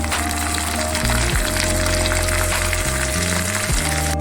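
Ginger and tamarind fry in oil for a Godavari-style ginger chutney, giving a continuous loud sizzle with a low hum running steadily underneath.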